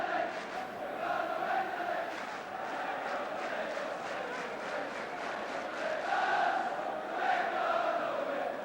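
A large football crowd at Kenilworth Road roars and chants after a goal in a 1979 Luton v Sunderland match, a sustained distant swell of voices with rising chant peaks.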